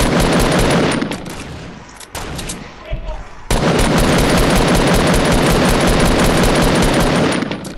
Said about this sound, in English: We need to start shooting.